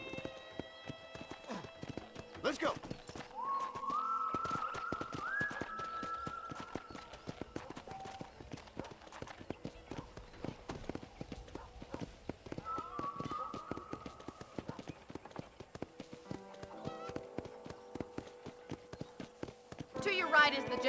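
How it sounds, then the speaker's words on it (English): Horse hooves clip-clop and gallop across dirt in the Red Dead Redemption video game, steady rhythmic beats running through most of the passage with a whinny and occasional game dialogue over the top. "let's see if you can still ride a horse"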